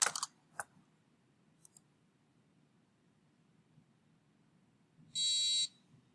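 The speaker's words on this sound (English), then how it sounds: "or we could try 300 hertz. Much lower frequency" A 300 Hz tone from an audio transducer driven by an Arduino sounds as one steady buzzy beep of about half a second, near and clear, after a few faint clicks in a quiet room.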